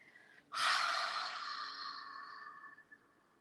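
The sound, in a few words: exhaling breath with tongue out, yoga breathing practice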